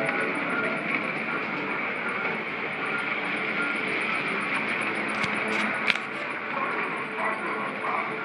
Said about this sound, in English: here's the other train that we saw before